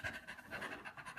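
A dog in a video game pants quickly and steadily at close range, a soft rhythmic huffing with no other sounds.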